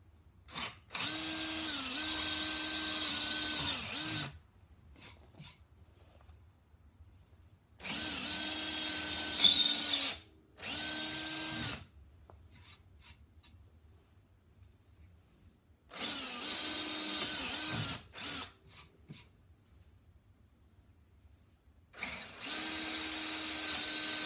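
Power drill boring out old threads on a vintage Mead belt sander under restoration, running in four separate bursts of steady whine a few seconds each, with quiet gaps between.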